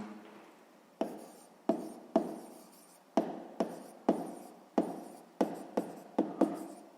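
A pen or pencil writes out a sixth-grade math solution: about a dozen sharp strokes and taps, each followed by a short scratchy trail on paper, close and fairly quiet, with no talking.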